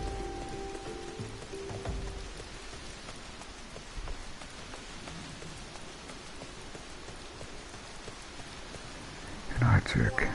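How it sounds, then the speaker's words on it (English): Rain falling in Final Fantasy XIV, a steady close hiss of downpour that runs unbroken throughout, with a louder clattering burst near the end. "seems to be a rainy day"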